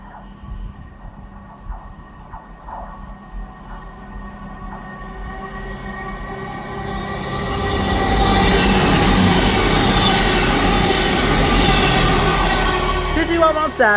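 CrossCountry Voyager diesel train on an Edinburgh to Plymouth service passing Selly Oak station, a low rumble swelling into a loud, close roar of wheels and engine from about eight seconds, with faint squeals near the end.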